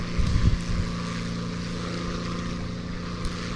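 A slow propeller airplane in the War Thunder video game drones steadily in flight, its engine a constant, close, buzzing hum with a faint rumble and no talk over it.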